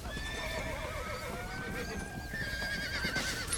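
A horse in the Western video game Red Dead Redemption whinnies loudly and at length over the dull thud of its hooves, a drawn-out neigh rising and falling close by.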